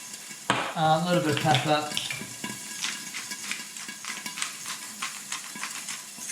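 Peppers and onions sizzle and crackle in a frying pan with a steady, close hiss. A person speaks briefly over the frying near the start.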